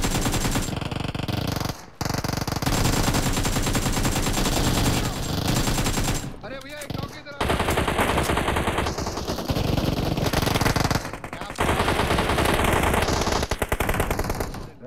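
Loud, sustained machine gun fire in the shooter game PUBG Mobile, with long rapid bursts separated by a few brief pauses.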